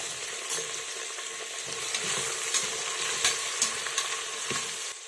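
Chopped onions and green chillies frying in hot oil in a pan for chicken pulav, a steady bright sizzle with occasional louder crackles and stirring scrapes.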